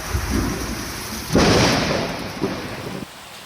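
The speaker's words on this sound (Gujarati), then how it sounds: "પવનના સુસવાટા અને વીજળીના કડાકા ભડાકા સાથે વરસાદી માહોલ છવાયો" A thunderstorm in Kalimpong with heavy rain pouring steadily and gusting wind, a loud rumbling thunder surge midway, then the downpour eases near the end.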